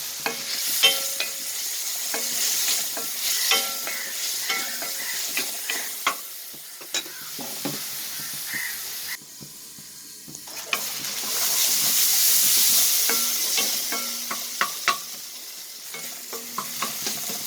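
Onions and spices with salt and fenugreek sauté in a pan for fish curry, a close, steady sizzle broken by repeated scraping and stirring clatter, with a brief quieter lull midway.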